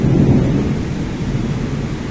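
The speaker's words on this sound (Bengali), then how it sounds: "এই বৃষ্টিটা একটা কাঙ্ক্ষিত বৃষ্টি।" Steady rain pours while a deep, rolling rumble of thunder fills the background, strongest at the very start.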